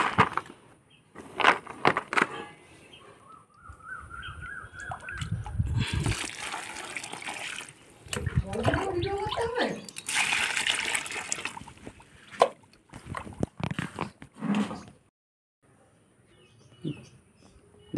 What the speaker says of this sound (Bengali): এবার আমি এতে জল ঢেলে দেবো